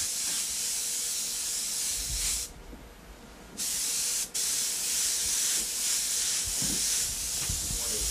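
An airbrush sprays paint onto a black shirt in long, loud, close hissing bursts, broken by one brief pause and a short stop before the spray resumes.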